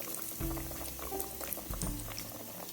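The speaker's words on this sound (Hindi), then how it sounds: "अब हमने 1 बाय 1 नगेट्स जो है इसमें डाल देने हैं।" Potato nuggets frying in hot oil over medium-high heat: a close, continuous bubbling sizzle with dense crackle and no talk.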